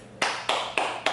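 Hands clap four times in a steady, even rhythm during a teaching drill, crisp and close, each clap alone with no talk.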